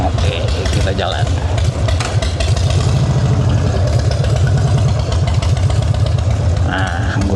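A chopper motorcycle with a small 7-litre tank rumbles loudly close by, its engine running steady and low, with wind roar and traffic noise around it.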